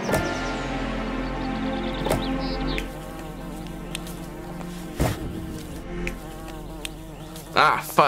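Continuous insect buzzing from bees swarming around a bee house in the city-building game Laysara: Summit Kingdom, a steady droning hum with layered wingbeat tones and a few sharper interface clicks cutting through.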